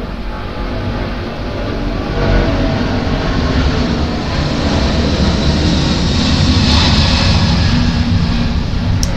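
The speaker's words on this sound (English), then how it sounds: "Sorry, I can't control the planes, y'all." Airplanes fly overhead in a broad, continuous roar that swells and lingers for several seconds, moderately loud and steady with no speech.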